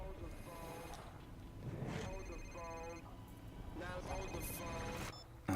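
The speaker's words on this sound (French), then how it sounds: "Un portable à clapper." An old flip phone rings with repeated electronic ringtone bursts. Voices speak over and between the rings.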